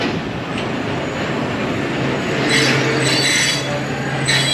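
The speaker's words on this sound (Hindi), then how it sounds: "और ये ट्रेन रुक गई है।" The Ravi Express passenger train, on the Lahore to Nankana route, brakes to a stop with loud, sustained metallic wheel squeals over a heavy rumble, heard from inside the carriage with sharp squeal bursts near the end.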